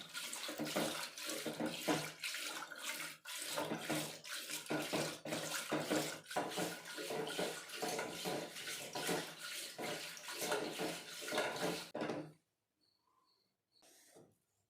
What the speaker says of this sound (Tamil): அதை வந்து நம்ம பட்டர் மில்க் ஆக்கலாம் அப்படின்னு சொல்லிட்டு இங்கே நான் கடைஞ்சிட்ருக்கேன்